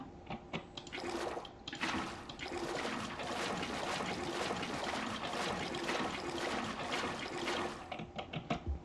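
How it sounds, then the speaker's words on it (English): Water pouring and trickling into a tank in Techopolis 3, a continuous gushing flow that starts abruptly, holds steady for several seconds, then cuts off. "You're starting to run a little bit low on water, so I'll bring this over and fill her up."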